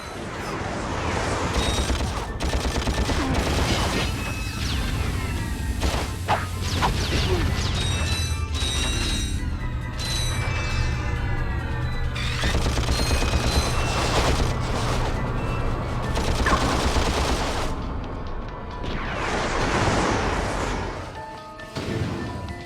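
Gunfire and combat from jetpack-riding elite ninjas in the video game Ratchet & Clank, dense bursts of mechanical clanks, blasts and whirring effects layered with game music, loud and continuous throughout.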